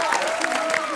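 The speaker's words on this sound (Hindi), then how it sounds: "बेगम जान की पूरी स्टार कास्ट के लिए ढेर सारी तालियां हो जाएं" Studio audience clapping for a film's cast at a comedy talk show taping, a brief dense burst of many hands, close and fairly loud, with a voice speaking over it.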